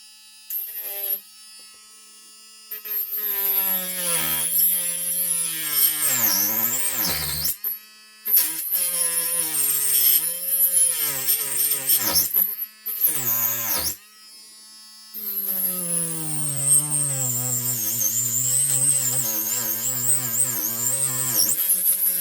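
Cheap Aridoo rotary tool whines at high speed as it cuts into MDF, its pitch sagging and rising under load in several bursts separated by short pauses.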